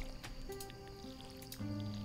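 Watering crops in the Stardew Valley farming game: soft squishy splashes of water land in quick succession over a steady bed of in-game music.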